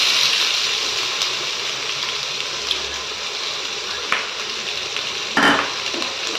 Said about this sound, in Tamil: இப்போ இந்த டைமில் பார்த்தீங்கன்னா வெட்டி வச்ச ஆனியன் சேர்த்துக்கோங்க